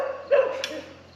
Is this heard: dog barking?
yes